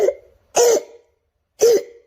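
A boy coughs in three sharp, close bursts separated by short silences, each with a rough throaty rasp, in a dramatized story scene.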